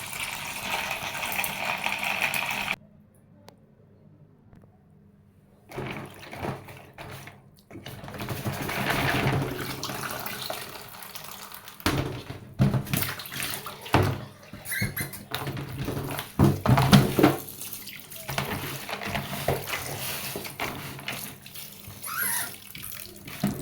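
Dried beans being washed by hand in water in a pot or bowl, with sloshing, splashing and rattling of beans, close and continuous with a short quiet pause near the start.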